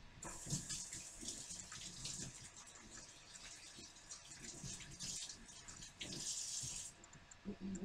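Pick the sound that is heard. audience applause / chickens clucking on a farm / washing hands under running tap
washing hands under running tap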